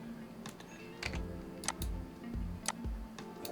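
Mouse buttons click while working in CAD software, a handful of sharp, irregular clicks at close range with brief gaps between them, alone without talk.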